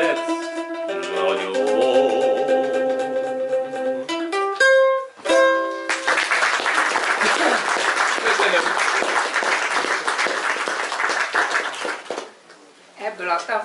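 Applause breaks out at the opening of a painter's art exhibition, a dense, sustained clapping from a gathered audience that runs for several seconds after music and speech, then fades out.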